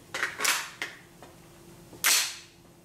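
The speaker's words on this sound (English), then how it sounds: "we're going to let EJ fire this thing up here in the Red Jacket range and see how it runs" Shots from a 7.5-inch suppressed short-barreled rifle on an outdoor range: several sharp cracks spaced unevenly across about two seconds, the last one loudest, with no talking.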